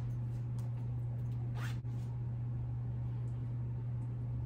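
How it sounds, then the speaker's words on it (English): A single quick pull on a clothing pocket zipper rasps briefly over a steady low electrical hum, otherwise quiet. "And then you do have the zipper pocket"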